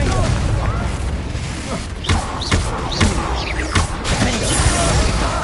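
Confringo explosive spell from Hogwarts Legacy going off, with loud booming thuds and several sharp crashing impacts over a constant, rumbling roar of battle noise.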